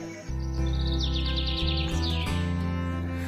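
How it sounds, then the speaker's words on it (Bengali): Dawn birdsong, used as an audio drama sound effect, rings out as a run of quick, high chirps and a rising-falling whistle over a loud, sustained music bed. "ভোরের পাখির কলকাকলির শব্দে রাজপুত্র রাজকন্যার ঘুম ভেঙে গেল"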